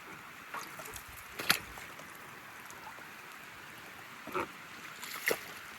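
A small wooden boat is rowed across a rain-soaked wetland, with faint, sparse paddle splashes and drips against quiet open-air background, a few soft strokes spaced seconds apart.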